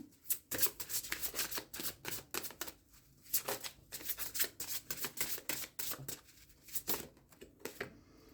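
Playing cards are drawn and handled from a deck during a card reading, giving close, crisp papery rustles and quick snapping strokes that come in uneven bursts throughout.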